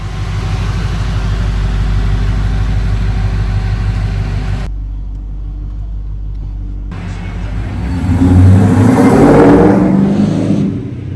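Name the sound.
LS-swapped 1986 Monte Carlo SS car driving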